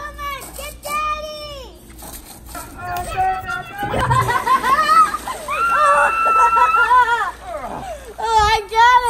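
Water splashes and sloshes while a garbage can is washed outdoors, bursts of spray under excited children's voices, squealing and chatter that dominate throughout.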